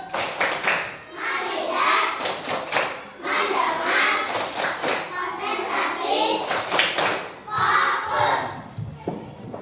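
A third-grade class of children performs a clapping chant in unison, with repeated rhythmic bursts of hand claps mixed with loud chanted young voices, close and energetic.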